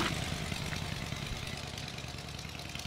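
A motorcycle engine drones steadily at mid pitch, fairly close, with a rough idling clatter and no voices, on a road in Guadeloupe.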